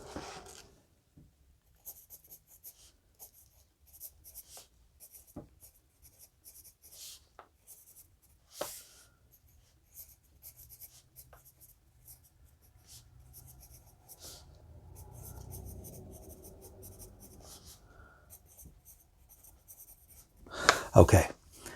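A Chikyu Gold & Black drawing pencil scratches across a sheet of paper in short, quiet strokes with pauses between, soft and close, with a brief louder rustle near the end.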